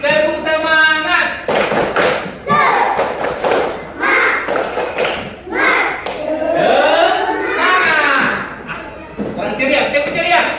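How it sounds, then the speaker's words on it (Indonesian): A classroom group performs a 'tepuk semangat' rhythmic clapping chant: sharp, close hand claps and slaps in quick bursts, mixed with chanting voices and a teacher's talk. "Saya masuk tepuk semangat."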